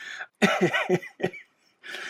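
Several harsh coughs burst out close to the microphone in a short fit, with brief pauses between them and a final rasping cough trailing off at the end.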